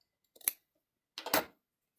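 Scissors snip through quilt fabric at an angle, two short, crisp cuts about a second apart, close by in otherwise quiet surroundings.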